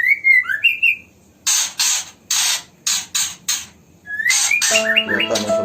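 A young oriental magpie-robin with an injured leg calls close by in bursts of sharp, harsh rasping squawks mixed with rising whistled chirps, followed by a brief tonal note near the end.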